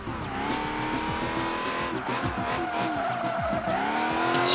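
A Callaway Corvette race car in the Project Gotham Racing 3 video game roars with a shifting, revving engine and tire squeal, loud and continuous throughout.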